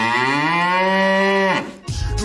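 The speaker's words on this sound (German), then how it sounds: "Und nebenbei ist die Kuh auf dem Dach." A single long, loud cow moo with a rich, droning tone that bends downward and breaks off, followed by a short burst of rough, low noise.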